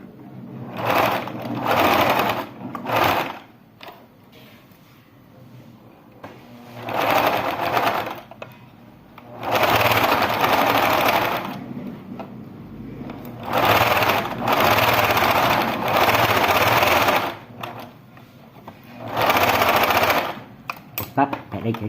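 A sewing machine stitches a baby shoe with reverse stitching, running in several loud, rapid whirring bursts separated by short pauses, close up with no talk.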